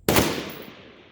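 A single sharp rifle shot at an outdoor shooting range, loud and close, with a long echoing tail that fades over about a second.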